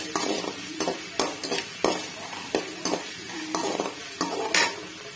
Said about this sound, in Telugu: కొద్దిగా పచ్చిమిర్చి, కొద్దిగా ఎండుమిర్చి అండి. వేసుకోవాలి.